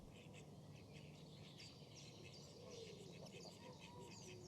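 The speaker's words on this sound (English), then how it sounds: "to the sounds of morning birds" Morning birds chirp and sing beside a river, their calls scattered over a steady, smooth rush of running water that fills the background.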